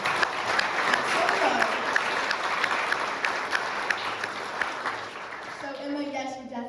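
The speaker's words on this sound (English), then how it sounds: "clap if you guys thought that song was amazing" Audience applause at an honors showcase after a sung performance, dense steady clapping from a crowd filling the room, tapering off slightly near the end.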